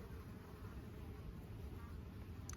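Faint, continuous low buzzing of flying insects, a steady drone close by with no talking.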